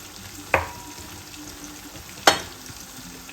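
Vegetables sautéing with bagoong for Ilocano pinakbet give two sharp sizzling bursts as ingredients hit the hot pan, each fading quickly into a low background hiss.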